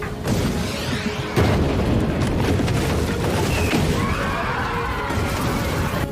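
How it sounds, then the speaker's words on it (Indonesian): Cannon bombarding the centre of Tokyo in the Rurouni Kenshin film, with a sharp heavy blast followed by sustained rumbling, crashing debris and a distant screaming tone in a loud, chaotic battle mix. "Kujiranami mulai menembakkan meriam ke arah pusat kota."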